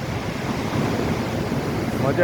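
Rough sea at Daman, with waves surging and crashing steadily against the shore under strong wind buffeting the microphone.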